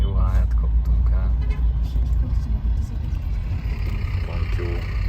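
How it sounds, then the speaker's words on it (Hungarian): Road traffic in Peru heard from the front seats inside a bus: a steady, loud engine and road rumble with passing vehicles and a brief horn toot, with faint voices in the cabin. "Nézzétek a forgalmat."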